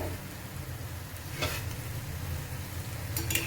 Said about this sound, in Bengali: এমনি করে ভেজে নেবে ভালো করে, এপিট ওপিট করে বেশ লালচে যখন হয়ে আসবে